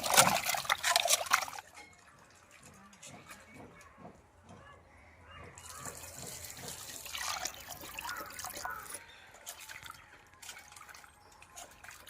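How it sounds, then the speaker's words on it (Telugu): Raw chicken rinsed under running tap water for a chicken 65 recipe, with bursts of splashing water and handling alternating with quieter dripping and faint background voice. "చికెన్ని రెండు మూడు సార్లు శుభ్రంగా కడుక్కున్నాం"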